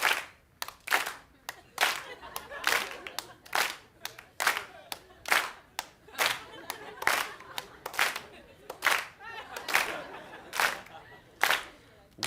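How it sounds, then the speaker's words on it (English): Audience at a 1980 TV taping claps along in a steady rhythm, sharp hand claps repeating roughly twice a second, loud and close with a crowd mixed in. "Can I get you to clap with me? Everybody put your hands together."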